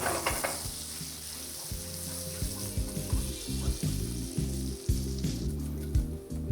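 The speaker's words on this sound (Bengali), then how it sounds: "তারপর বাটারটাকে একবার ভালো করে মেল্ট করে নিয়ে দিয়ে দিতে হবে এর মধ্যে 1 চা চামচ গোটা জিরে" Whole cumin seeds fry in oil and melted butter, crackling and sizzling steadily at close range, with a low hum underneath and occasional sharper pops and stirring scrapes, no speech.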